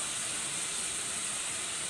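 Prawns sizzle in hot oil in a pan, ready for ginger garlic paste in a home prawn curry; a steady, close hiss runs throughout with no pauses and no talking.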